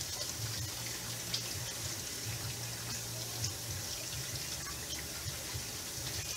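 Kitchen tap water runs in a steady, continuous stream into a sink while raw chicken is rinsed, with faint splashing and no voices.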